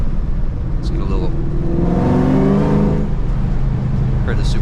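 A Ford Mustang Terminator Cobra accelerates from inside the cabin, its engine rising in a loud, harmonic surge with supercharger whine, while someone talks over it.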